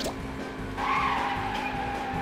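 A car in the Creature from the Krusty Krab video game brakes with a sustained tire screech that swells after a moment and holds steadily to the end, loud and alone without talk.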